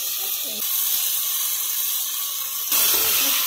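Raw chicken pieces, washed with rock salt, turmeric and lemon, tipped into a frying pan of hot oil, giving a sudden loud sizzling hiss that swells near the end over steady background frying.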